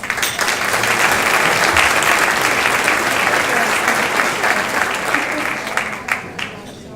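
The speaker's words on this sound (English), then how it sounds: "Please hold your applause at the end, until the end as I read the names" An audience at the ERASE Racism annual benefit breaks into sustained applause, a dense, loud wash of clapping that fades slightly toward the end.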